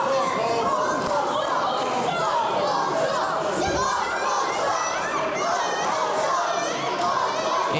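A wrestling crowd at a Fight Factory Wrestling heavyweight championship match cheers and shouts in a steady, dense roar, many voices blending into loud continuous noise throughout.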